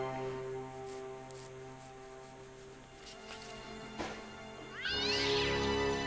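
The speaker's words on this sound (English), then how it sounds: "It's a cat! Run!" Cat meowing in the adventure game Broken Sword Reforged, one drawn-out rising meow near the end over a steady layer of game music and ambience.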